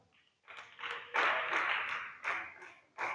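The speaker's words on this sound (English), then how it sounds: "Clap for her." A small audience at a teenager workshop lecture claps in short scattered bursts, a few hands at a time, fairly faint with pauses between rounds.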